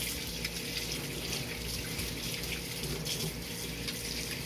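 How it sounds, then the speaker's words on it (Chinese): Tap water runs steadily into a sink while soap suds are rinsed off dishes and chopsticks, a soft continuous hiss of flowing water at low volume with no breaks. "打开水龙头，把泡泡冲干净。"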